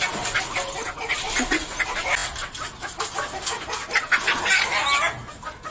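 A flock of chickens with chicks clucks and chatters continuously in a yard, many overlapping close and mid-distance calls over a busy outdoor background, with no one speaking.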